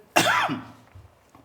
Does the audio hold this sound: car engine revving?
no